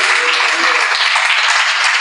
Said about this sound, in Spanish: Dele un aplauso al Señor si así lo desea.